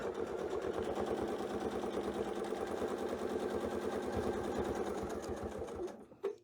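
A sewing machine stitches steadily across a quilt template, its rapid even needle rhythm running close and loud for about six seconds before stopping abruptly, with a short final burst.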